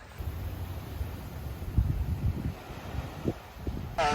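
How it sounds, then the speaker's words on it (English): Wind gusts buffet the microphone outdoors at a campsite on Assateague Island in low, uneven rumbles, swelling and easing over a few seconds. "it's too windy for any of it not to fly away"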